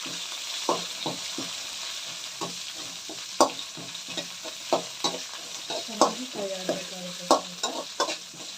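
Curry leaves frying in hot oil in a pan with potato curry, a soft continuous sizzle broken by repeated scraping stirs of a spoon, fairly close and without talk.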